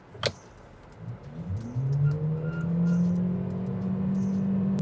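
A BYD Song L DM-i hybrid car pulling away from a traffic light on a nearly depleted battery, an engine drone rising steadily in pitch and loudness after a brief click, heard from inside the cabin.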